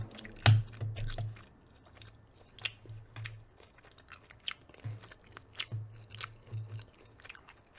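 Close, quiet chewing of a breaded chicken teriyaki bowl, with moist crunches and bites in an irregular rhythm, loudest at the first bite and continuing softly, with no talking.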